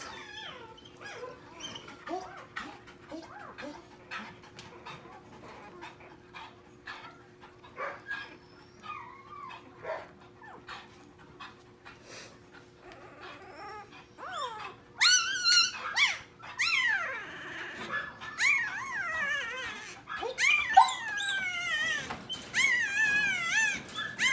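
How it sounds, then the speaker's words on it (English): A restrained puppy cries and whimpers while its tail is docked, with soft intermittent whines early on that grow into louder, rising, repeated cries near the end. "the puppy cries more because it's being restrained than anything else"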